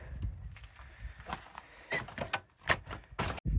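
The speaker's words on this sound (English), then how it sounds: "That's that big heavy steel door." A big, heavy steel door on a remote structure in the Eastern Sierra is shut with a series of clanks and knocks, close and fairly loud, with short pauses between the impacts.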